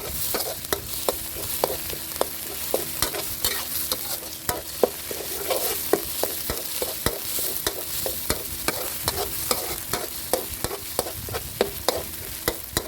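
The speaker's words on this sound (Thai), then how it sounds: "อันดับแรกก็ใส่น้ำมันพืชลงไปนิดหน่อยครับ ตามด้วยพริกแกงเผ็ด ใส่ลงไปผัดให้หอมนะครับ" Red curry paste stir-fried in a little vegetable oil in a pan, a constant loud sizzle with a spatula scraping and tapping against the pan in a steady, regular rhythm, close and without speech.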